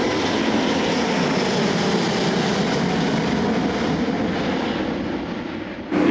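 Steady, broad roar of an Airbus A350 airliner in flight, a constant loud wash of engine and air noise that holds evenly throughout.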